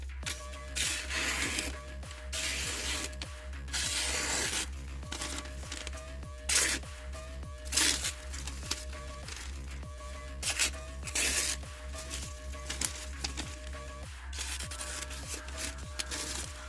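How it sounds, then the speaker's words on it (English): Steady, repeated gritty rubbing strokes of an MKM TPF knife blade drawn across cheap diamond sharpening plates, close and fairly quiet, with occasional louder scrapes and no speech over it. "So that's sharpening the TPF after edge retention test."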